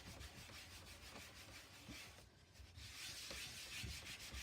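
Steady rubbing and wiping strokes across a magnetic framed chalkboard as chalk is scrubbed off with some effort, a close, continuous dry friction with rhythmic passes and no voices.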